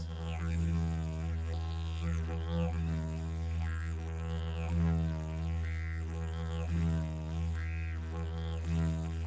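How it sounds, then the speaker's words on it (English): A steady low didgeridoo drone with its pitch sagging and rising in slow bends made by dropping the jaw, overtones shifting in a rhythmic pattern, played alone and fairly soft. "This doesn't change the harmonic so much, it actually lowers the pitch of the didgeridoo."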